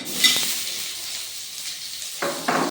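Boiled soybeans frying in a pan for chilli soybean, a steady broadband sizzle with brief stirring scrapes and louder bursts near the end, no talking.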